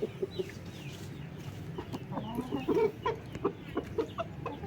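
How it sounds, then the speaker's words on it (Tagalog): Several hens cluck and murmur nearby in short, irregular bursts, with soft background noise and scattered higher calls. "Mga inahin dito."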